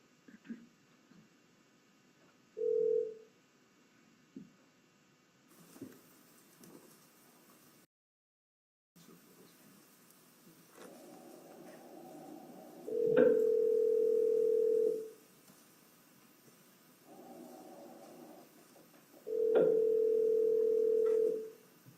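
Telephone ringing on a recorded call that goes to voicemail, two long electronic ring tones separated by a pause, clear over a faint line hiss, with shorter, quieter tones and clicks before them.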